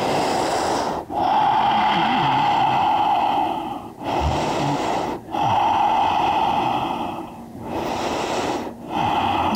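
Slow, deep breaths drawn in and let out during an outdoor yoga session, four long close exhalations, each a steady airy rush broken by short pauses, with no talking over them.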